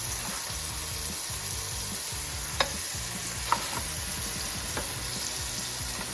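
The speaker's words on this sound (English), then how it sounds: "the step one for the soup stew is to brown the meat in butter" Two pounds of meat browning in butter for a soup stew, a steady close sizzle and fry running the whole time with a few sharp spatula clicks and scrapes, no voices.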